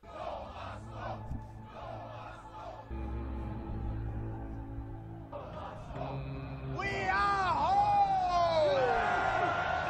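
Arena crowd in a zombie-fight scene from The Walking Dead: Dead City chants in rhythmic waves over a low hum, then swells into louder roaring and whooping, with a voice speaking partway through.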